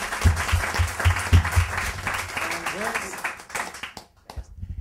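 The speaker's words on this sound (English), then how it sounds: "could we have a round of applause for ZeroDivide?" Audience applause breaks out at a nonprofit technology event, a loose crowd clapping under some chatter and low thumps before tapering off and fading into near-silence at the end.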